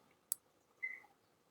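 A single sharp computer mouse click sounds close and quiet, followed by a soft faint shuffle in an otherwise still room.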